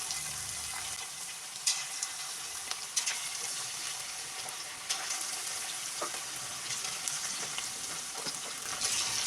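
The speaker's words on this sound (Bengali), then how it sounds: "এবার আমি একে একে মাংসের টুকরোগুলো গরম তেলে দিয়ে ভাজতে থাকবো।" Chicken pieces fry in hot oil for chili chicken, giving a steady close sizzle and crackle throughout with a few sharper pops and spits, and no voices.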